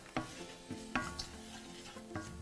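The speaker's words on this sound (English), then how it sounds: "So give that a stir" Turmeric and spices stirred in a pan at a barbecue cookery demo, a few sharp scraping clinks spaced about a second apart over a faint sizzle, fairly close.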